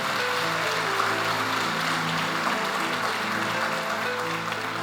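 A church congregation gives sustained, loud applause, a continuous dense roar of many hands with a faint musical hum beneath it and no clear break.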